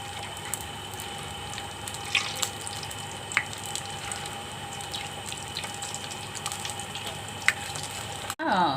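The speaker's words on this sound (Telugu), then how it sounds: "చేస్తుంటే వేపేస్తున్నాను" Pala munjalu, milk and rice flour dumplings, frying in hot oil, heard as a steady, soft sizzle with scattered pops and crackles. A brief clatter sounds near the end.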